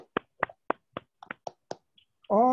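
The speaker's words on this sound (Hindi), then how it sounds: "ये एक बार जोरदार तालियां होनी चाहिए सर के सम्मान में" An audience honoring a company's founder and chairman, heard as a sparse run of sharp, distinct hand claps spaced about a quarter second apart, ending with a voice starting to speak.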